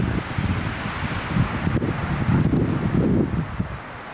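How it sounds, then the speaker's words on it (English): Strong wind at the Grand Canyon gusting and buffeting the microphone, rising and falling in loud rumbling bursts with no talking. "It's very windy up here."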